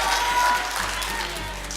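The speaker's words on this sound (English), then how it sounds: "Give Abelardo a big round of applause." An audience applauds a speaker on stage, with continuous clapping from a crowd over a low steady hum and a faint voice underneath.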